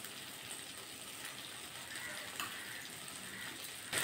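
Paneer and malai being stirred and fried in a masala, giving a steady, soft sizzle with light scraping, fairly quiet and even throughout, with a brief louder stir near the end.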